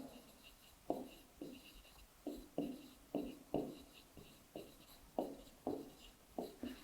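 Strokes of writing on a board during a maths lesson come as a quiet series of short, uneven scratches and taps, spaced in loose bursts with pauses between, and no voice is heard.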